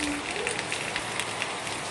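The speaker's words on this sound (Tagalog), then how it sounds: "Yan guys, ang ulan na naman na." Steady rain falls outdoors at a gathering, a dense continuous hiss with soft pattering drops spread evenly throughout, fairly close and unbroken, with faint voices in the background.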